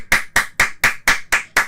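Seven sharp hand claps ring out in a quick, even rhythm, close and loud, with nothing else heard between them.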